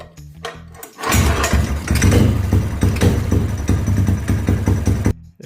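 A kick-started mini bike engine fires up after a brief scuffle of kicking, then runs loud and close with a steady, rough putter for about four seconds before cutting off abruptly.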